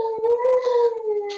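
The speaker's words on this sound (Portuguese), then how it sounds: "meu cachorro resolveu fazer um show agora na hora da aula" A dog howls at home during an online history class, one sustained, wavering tonal howl that rises slightly and then slowly falls, loud and close, with no speech over it.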